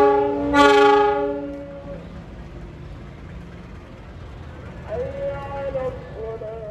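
A passing locomotive on the Bandung–Gedebage line in Indonesia: a loud horn blasts briefly, then engine rumble continues before a second, softer horn sounds, with a low diesel drone underneath.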